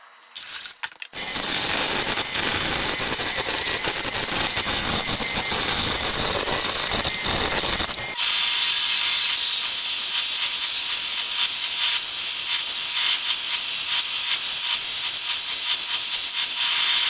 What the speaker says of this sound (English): So we went back to the bandsaw. We actually cut out the center.